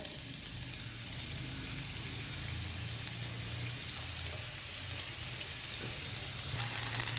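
Finely chopped large onion frying in hot oil, cooking toward brown for a restaurant-style mutton brain fry, gives a steady, close, continuous sizzle with crackly spits throughout, slightly louder near the end, and no talking.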